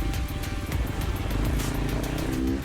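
KTM 450 rally motorcycle racing in a Red Bull Romaniacs hard enduro, its engine revving steadily near and loud with a rough, pulsing exhaust note that climbs slightly in pitch.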